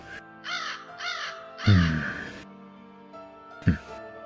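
Loud, close crow caws come in a short run of rasping calls, followed by a pause and one final caw.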